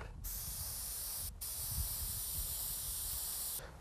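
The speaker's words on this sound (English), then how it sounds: "A spray gun, of course, is a totally different character to a paintbrush." A spray gun hisses paint onto a landscape painting in three bursts, the first and second split by a short gap, then a longer steady spray that cuts off near the end, close and fairly soft.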